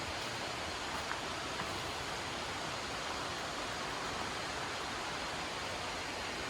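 Nam Tok Pa Wai, a waterfall in a forest, gives a steady, dense rushing roar that fills the whole scene evenly, with no voices.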